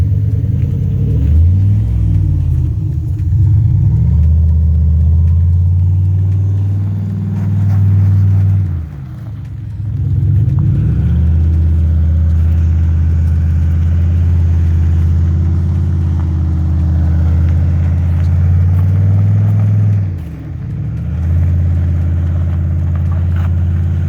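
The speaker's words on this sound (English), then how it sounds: "It even still sounds like a Subaru." A Subaru boxer engine fitted in a Smart kart rumbles steadily up close, its low throbbing drone dipping briefly a few times as the revs settle, no talking over it.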